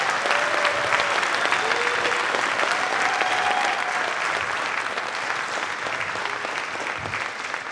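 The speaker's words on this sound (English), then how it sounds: "Let's all give Susie a big round of applause." Audience at a summer music camp gathering applauds in a dense, steady wash of clapping that holds at a fairly even level throughout.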